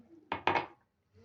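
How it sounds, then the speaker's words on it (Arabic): A utensil strikes a bowl twice in quick succession while ingredients are beaten into eggs, a pair of close, sharp clinks followed by quiet. "ولا الأول هنضرب المكونات دي في البيض"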